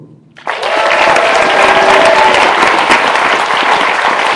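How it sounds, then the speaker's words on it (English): A crowd at the 2015 Bram Stoker Awards in Atlanta, Georgia bursts into loud, sustained applause after a brief quiet moment, steady clapping filling the rest of the clip. "we want a round of applause here"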